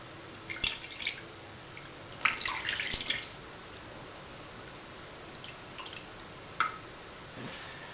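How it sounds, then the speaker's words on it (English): Lye solution trickling slowly into warmed oil in an old pot while making homemade soap, giving a few soft, close dripping and splashing bursts separated by quiet pauses. "Now very slowly, very carefully add your lye mixture to your oil."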